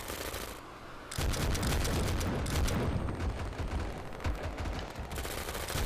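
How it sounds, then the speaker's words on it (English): Cannon fire and far-off explosions from the MAV video game, a dense run of sharp booms and crackling blasts that swells in loudness after the first second and continues rumbling without any voices. "I just love the new sound effects on like the cannons and everything with the explosion being far away"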